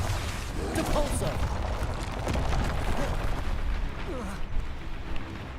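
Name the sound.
Depulso spell in Hogwarts Legacy video game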